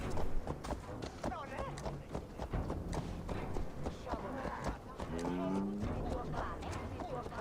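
Horse hooves clip-clop at a walking pace in Assassin's Creed Valhalla, set in Lincoln, mixed with game sound effects and someone speaking over the top.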